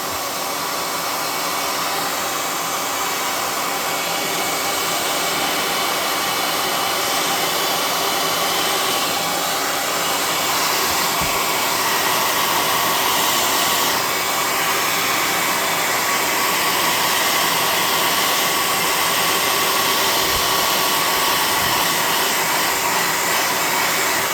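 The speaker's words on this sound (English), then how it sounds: "Hot air gun it." A hot air gun blows a steady, loud, unbroken whoosh with a faint motor whine as it dries paint on cardstock, running alone without talk.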